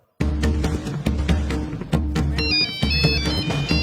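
A phone rings with a repeating electronic ringtone for an incoming call from a son, a loud, close melodic pattern pulsing steadily after a short silent start, with no talking over it.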